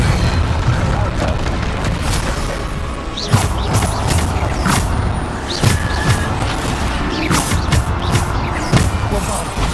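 Bombarda explosion spells go off in Hogwarts Legacy combat, repeated booming blasts every second or two over a loud, constant clatter of magic and movement, with a voice talking along.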